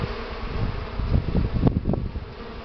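Buckfast honey bees being driven off hive frames during honey harvest, a close, loud buzzing hum that swells and pulses unevenly, with no talking.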